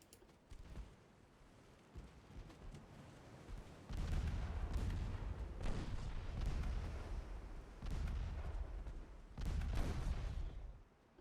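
Heavy 6-inch naval guns fire in a 1913-era naval battle game, the booming salvos rolling in at intervals over a steady low rumble of wind and sea, loud and reverberant with no talk.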